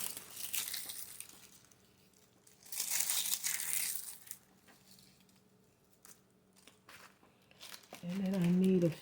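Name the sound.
crunchy dried flowers being handled for a shadow box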